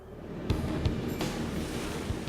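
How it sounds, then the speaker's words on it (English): Ocean waves surge and churn in a steady wash of water, with a few sharper splashes breaking through the continuous roar. "The way its presence can conjure up this torrent of water and these waves."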